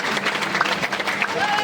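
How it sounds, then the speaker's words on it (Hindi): A crowd at a BJP political event claps continuously, standing to welcome a state vice-president with a dense, even patter of applause throughout. "एक बार खड़े होकर के ताली बजा करके आप सब लोग उनका स्वागत करेंगे"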